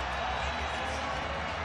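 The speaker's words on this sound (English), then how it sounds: "Listen to this crowd." Basketball arena crowd roaring in a sustained, dense swell of cheering right after a half-court shot goes in, with an announcer's voice mixed into the noise.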